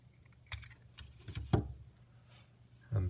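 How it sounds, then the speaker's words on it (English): A few short crisp snips and rustles come from scissors cutting paper for a paper rocket build, heard close and fairly quiet over a low hum. "so I want to cut that one like this"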